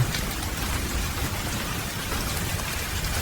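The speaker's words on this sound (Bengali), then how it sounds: "শুভম বৃদ্ধার ঘরে ঢুকতেই বাইরে বৃষ্টির তাণ্ডব আরও বেড়ে গেল।" Heavy rain pours down in a dense, continuous roar, drops drumming on surfaces close by without pause.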